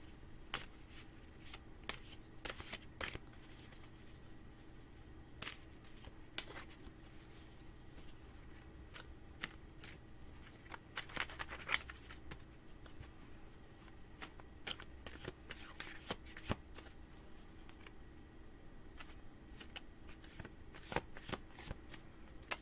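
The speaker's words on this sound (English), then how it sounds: "These cards are shuffled and ready." Tarot cards shuffled by hand, a steady run of crisp riffling and sharp snapping clicks that come in bursts, close and fairly quiet.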